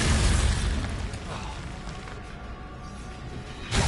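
Bombarda spell blast in a Harry Potter video game, a loud booming burst at the start with a rumbling tail, then a second sharp boom near the end.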